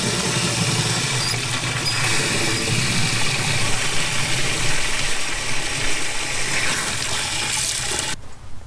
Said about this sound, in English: We're going to fill our backpack spreader up with 1 gallon of water.